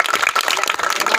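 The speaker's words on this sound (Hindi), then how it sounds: "सब बच्चे मिलके ताली बजाए" A group of children clapping together, a quick, dense patter of claps at close range with no voices.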